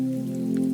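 Steady rain falls outside a cozy cookie shop, a continuous soft patter with a low, even hum beneath it, close and unbroken, with no voices.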